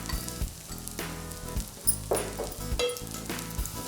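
Spice powder frying in a hot pan while mango semia pulihora is cooked, giving a steady sizzle with stirring sounds and a few sharper crackles.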